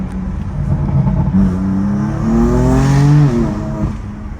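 A BMW M4 CS engine revs hard as the car accelerates and its wheels spin, the pitch climbing and wavering while traction control cuts power. Close and loud from inside the car, with nothing but the engine note.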